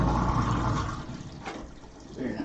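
Hot water from a sous vide cooking bath rushes and gurgles down a kitchen sink drain, a loud broadband wash that gradually eases off over a couple of seconds.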